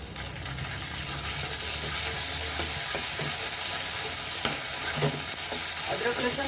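Half a spoon of ginger garlic paste fries and is stirred in a hot pan while Maharashtrian-style dal batti is cooked, giving a steady close sizzle broken by repeated scraping stirs.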